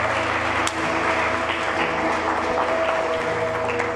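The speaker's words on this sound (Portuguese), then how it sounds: "aplauda Jesus. Aplauda Jesus." Church congregation applause, a steady wash of clapping beneath a sustained tonal hum from keyboard or sound system, moderately loud and continuous with no speech over it.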